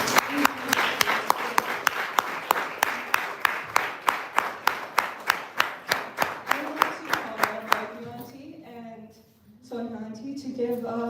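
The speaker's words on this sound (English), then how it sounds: "let's take a round of applause to all of the mothers." A crowd applauds mothers at a Navarathri/Dasara celebration at Edison Sai Center, with a steady burst of clapping that fades into people talking near the end.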